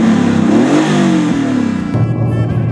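A 1993 Porsche 964's air-cooled 3.6-litre flat-six revs loudly and close, pitch rising and falling through a couple of throttle blips before dropping back toward a lower idle, with no talk.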